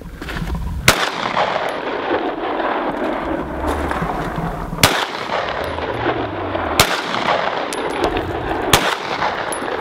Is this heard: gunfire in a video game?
yes